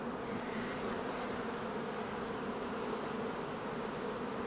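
A dense, steady buzz of Caucasian honeybees working at the hive on a spring day, continuous and fairly soft, with many insects droning together nearby and no voices.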